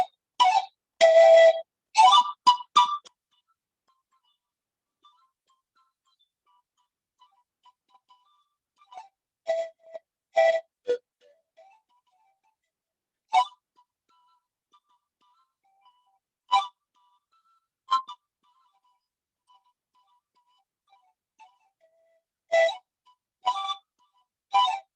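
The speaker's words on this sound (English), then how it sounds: "This one is called the rondador." Rondador, the Ecuadorian double pan flute, sounding breathy paired notes of melody and harmony together in short separated phrases and isolated blown tones with quiet gaps between, played alone.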